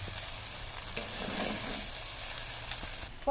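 Rice and vegetables frying in a pan give a steady soft sizzle with faint stirring scrapes, close and fairly quiet, with no talk.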